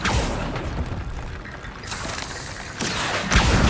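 An Incendio fire spell cast in Hogwarts Legacy, heard as loud booming, whooshing bursts of flame with a brief lull and renewed flare-ups toward the end.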